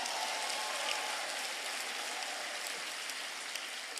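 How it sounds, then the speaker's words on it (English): A large student crowd at a UC Berkeley campus event applauds and cheers, a dense, continuous roar of clapping that fills the room evenly at steady loudness from start to finish, with no single voice standing out. "How about a round of applause for all of you for making it in here?"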